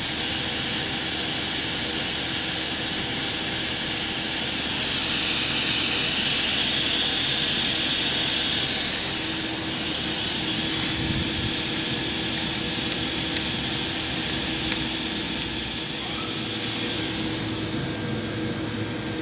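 The spindle of a Doosan DNM 500 II vertical machining center runs as a steady, loud, high-pitched whine with a broad airy rush, holding constant throughout with no speech.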